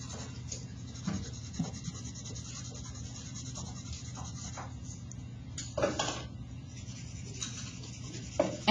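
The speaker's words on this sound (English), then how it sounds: "I'm going to take my 4H pencil, even in a darker area, and I'll use it as like a blending tool." A hard 4H graphite pencil shades and blends across paper in soft, close scratching and rubbing strokes, with brief louder scrapes at irregular intervals, and no talking.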